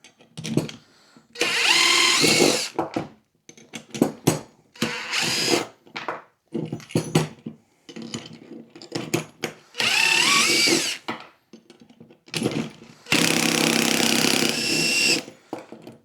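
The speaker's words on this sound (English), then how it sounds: "I'm going to run these off with the driver here." A power driver backs bolts out of custom-bent metal brackets in repeated bursts of whirring, some long and high-pitched, separated by pauses with clanks and handling noise, close and loud.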